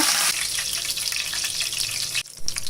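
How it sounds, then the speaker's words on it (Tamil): Crushed garlic and curry leaves fry in hot oil for kara boondi, a steady, close, bubbling sizzle that runs loud and continuous before briefly dipping near the end. "நம்ம பூண்டையும் கருவேப்பிலையும் ஃப்ரை பண்ணிக்கலாம்"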